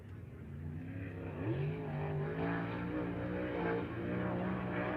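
Race cars running laps during Flight B qualifying at Las Vegas Motor Speedway, engine drone rising and falling as cars accelerate, heard at a distance without talk.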